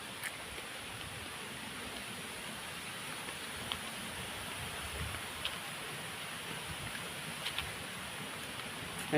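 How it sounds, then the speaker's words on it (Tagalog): Muddy brown river water flows in a steady, broad wash of noise, with faint soft splashes rising now and then at close range; no one speaks. "Ay guys, ilog."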